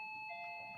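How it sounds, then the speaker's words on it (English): A household doorbell rings faintly in the background, a steady electronic chime tone heard alone for under a second. "Apologies if you can hear my doorbell going"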